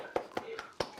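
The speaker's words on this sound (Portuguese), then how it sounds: "Palmas, palmas." A class claps hands in a classroom: four sharp, separate claps spaced unevenly, fairly faint, with no voices over them.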